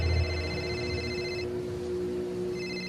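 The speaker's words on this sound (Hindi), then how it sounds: "उसी समय समीर का फोन बज पड़ा।" Mobile phone ringtone plays in repeating electronic tones, a steady close ring with a brief gap midway before the melody resumes.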